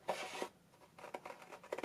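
Scissors snip through paper card in short bursts, a burst of crisp cuts followed by quieter, intermittent snips, close and fairly soft with no talking.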